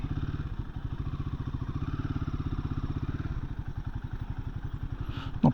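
A Royal Enfield Himalayan 450 motorcycle rolls along at low speed, its engine giving a steady, close, rhythmic single-cylinder thump that holds even throughout, with a brief knock near the end.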